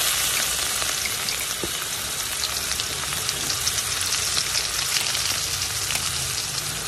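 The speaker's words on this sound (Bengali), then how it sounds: "এবার এর মধ্যে একে একে দিয়ে দিচ্ছি পেঁয়াজ কুচি" Chopped onions hit hot oil with clove, cinnamon and cardamom for flattened rice pilaf, giving a loud, steady, dense sizzle like heavy rain that continues without pause and without voices.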